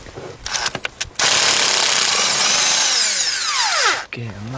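A power wrench loosens a spark plug on a car with low compression: a few clicks, then a loud steady whine for about three seconds that winds down and stops.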